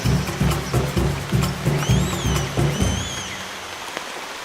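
Rain falling steadily during a forest rainstorm, a continuous broadband hiss with close patter of drops, loud and alone without voices.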